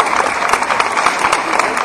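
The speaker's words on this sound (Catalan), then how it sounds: "Un aplaudiment." A crowd applauds at the Flama del Canigó procession in Catalonia, with dense, continuous clapping close by and at full volume throughout.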